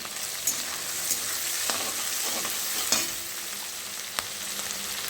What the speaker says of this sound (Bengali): চিংড়ি মাছটা ভাজা ভাজা করে নেবো একটু হালকা করে